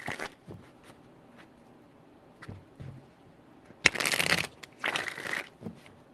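Tarot cards being shuffled for a reading, a few quiet riffles early on and then two loud, dense bursts of riffling near the end, with faint thuds between.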